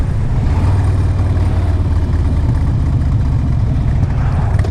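A 2004 Harley-Davidson Road King Custom motorcycle engine running steadily, a loud, close, continuous low rumble with even throb throughout.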